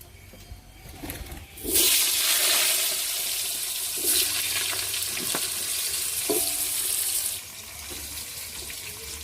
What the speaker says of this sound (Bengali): মাছের তেলেতে আলুগুলো ভেজে নেবো